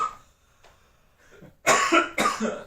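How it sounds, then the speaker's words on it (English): Two loud, harsh coughs in quick succession, close to the mic, after a few faint quieter sounds. "cough"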